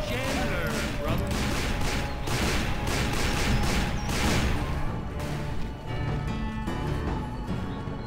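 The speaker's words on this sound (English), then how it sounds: "Who the hell are we shooting at over here?" Wild West gunfight in Call of Juarez: Bound in Blood, with repeated loud gunshots and sharp bursts cracking irregularly over a busy battle din, while voices talk over the shooting.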